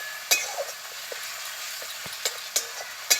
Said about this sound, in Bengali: একটু এবার নেড়ে চেড়ে নিচ্ছি।